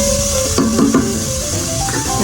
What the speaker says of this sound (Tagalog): Ayan, gisa-gisa.